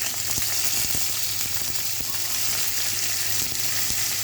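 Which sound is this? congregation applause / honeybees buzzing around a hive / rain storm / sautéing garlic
sautéing garlic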